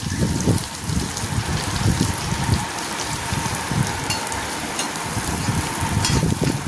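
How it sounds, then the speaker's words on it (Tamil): Small shallots sauté in hot oil in a pan for a cabbage kurma, giving a steady, dense sizzle and crackle that runs throughout without any voices. "சின்ன வெங்காயத்தை போட்டு நல்லா தா தாளித்து விடணும் சின்ன வெங்காயம் நல்லா வதங்கட்டும்"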